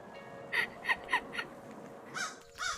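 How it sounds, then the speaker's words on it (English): Crows in the Skatebird video game give several clear caws, three spaced calls followed by two louder, harsher ones near the end, over a steady low game background. "Real crow noises."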